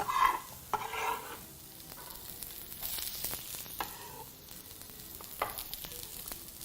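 Vegetables hit an oiled pan and sizzle steadily, with stirring scrapes and small clatters of a utensil against the pan, close up and alone without talk.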